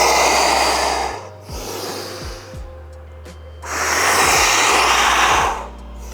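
Deep breathing during a cat-cow yoga stretch: long, loud, close airy inhales and exhales that alternate slowly, with a low steady hum beneath them.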